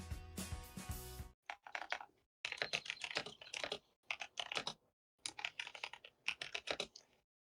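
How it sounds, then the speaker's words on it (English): Rapid clattering of a loud keyboard being typed on in bursts with short pauses, preceded by a brief rustling noise, close and clear. "Your keyboard is so loud."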